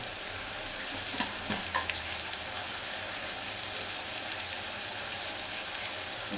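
Ridge gourd and prawn curry frying in a pan, giving a steady close sizzle with soft stirring scrapes throughout and no talking.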